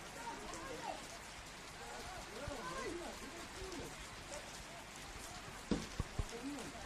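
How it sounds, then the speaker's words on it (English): Steady rain hisses across an outdoor football match at night, a constant wash of noise under a commentator's talk, with a few sharp thuds near the end. "And the rain definitely hanging around now."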